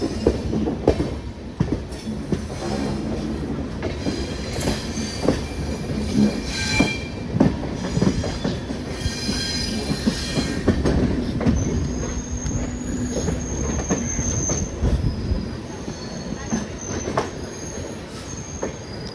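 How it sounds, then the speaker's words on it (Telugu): A train changes tracks while entering Chennai Egmore station, its wheels screeching and squealing over the points on top of a continuous rolling rumble and clatter, heard up close from inside the coach. "ట్రాక్ చేంజ్ చేసుకుంటా చెన్నై ఎగ్మోర్లోకి ఎంటర్ అయిపోతున్నాం."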